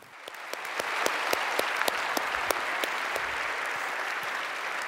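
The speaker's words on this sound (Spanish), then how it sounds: "Démosle un gran aplauso" A large audience applauds at a church gathering, the clapping swelling quickly and holding as a dense, steady roar, with sharp individual claps near the front standing out over the crowd.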